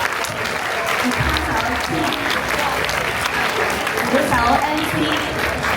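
Loud applause from a school audience at a Christmas party singing contest, steady dense clapping filling the hall while a host speaks over it introducing band members.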